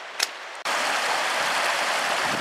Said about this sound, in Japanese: 水の音がします。